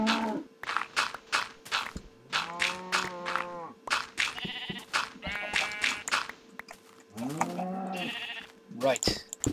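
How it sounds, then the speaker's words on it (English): Repeated sheep bleats from the Minecraft video game, several loud, close wavering calls spread through the clip alongside other game sound effects. "It was a sheep, wasn't it?"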